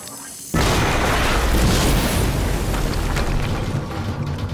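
A heavy explosion in Quantum Break bursts in abruptly after a quiet half-second, then roars on as a loud, sustained rumbling blast that slowly eases without fully dying away.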